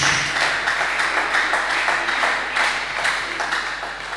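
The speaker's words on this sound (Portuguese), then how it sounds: "Aplauda forte para o Senhor Jesus." A church congregation claps loudly and rhythmically, a steady pulse of hand claps roughly twice per second, close and sustained throughout with a low hum beneath.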